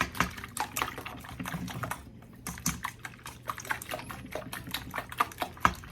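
Eggs whisked in a bowl to break up the yolks make a quick, irregular series of light clicking taps, close and fairly soft, with no talking.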